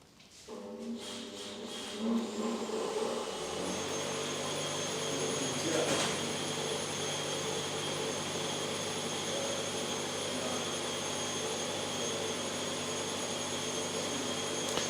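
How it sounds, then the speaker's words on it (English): A constant loud mechanical roar with high whining tones fills a busy workshop at a dyno session, like machinery and compressors running, with no clear voices. "sorry about the background noise, it's a busy workshop here"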